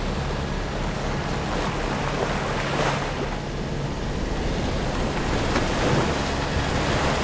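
Strong wind of 27 to 28 knots and breaking waves surround a sailboat motoring along the Intracoastal Waterway, a steady broadband roar of surf and gusts buffeting the microphone with a low engine hum beneath, constant and loud throughout.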